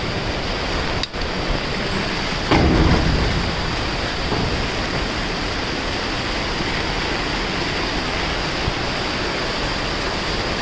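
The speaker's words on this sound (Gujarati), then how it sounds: "રાતનો ચાલુ છે એક ધારો વરસાદ, ચારે બાજુ પાણી પાણી થઈ ગયા." Heavy rain pours without letup over a flooded area with a cattle shed in Kim, Surat, a dense loud steady hiss, with one brief low rumble early on.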